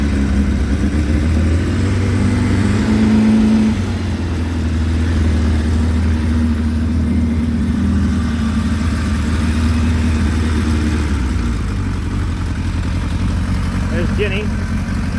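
A 1991 large motorcycle of 1000 cc or more with aftermarket dual exhaust idles steadily and loudly after a choke start, a low even rumble with a brief rise in pitch early on.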